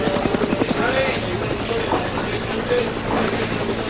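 A helicopter hovers over a mountain stage of a professional road cycling race, a steady loud rotor thumping that fills the scene, with a commentator talking over it.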